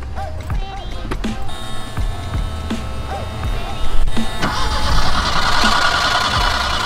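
A small 2-liter four-cylinder fuel-injected engine in a tiny manual-transmission car cranks with a few short starter bursts, then catches and settles into a louder, steady idle close by.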